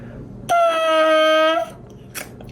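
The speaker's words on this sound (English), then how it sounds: "The sound on a bassoon is created using this, which is called the reed." A bare bassoon reed blown on its own gives one buzzy, nasal squawk lasting about a second, steady in pitch, followed by a faint click.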